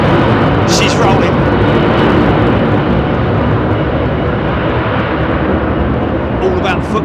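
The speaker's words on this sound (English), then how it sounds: "Take off thrust set." A Boeing 747 Combi converted freighter, ex-KLM, begins its takeoff roll at Heathrow, its engines at takeoff thrust producing a loud, continuous, broadband roar heard from inside, steady throughout with faint higher whines above.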